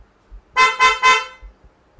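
A PIAA horn fitted to a Honda CB650R motorcycle gives three quick, loud, close blasts in rapid succession, with nothing else around it.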